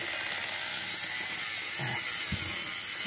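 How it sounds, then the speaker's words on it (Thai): Worn plastic gears inside a Daigunder Dragoburst transforming toy grind and ratchet with a rough mechanical clatter, close and continuous over a constant background hiss. "อย่างตัวนี้เองเนี่ยเฟืองก็น่าจะเริ่มไม่ค่อยไหวละ เริ่มมีเสียงแปลกๆนะครับ"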